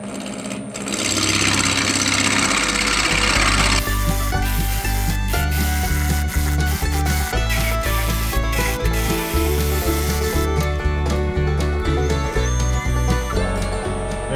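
Wood lathe spinning fast while turning a carver's mallet, a loud steady motor drone with bright scraping and chattering of the tool cutting wood, close and continuous.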